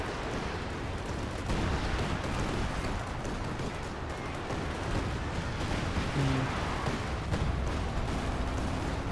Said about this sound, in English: And more artillery. Everything is exploding.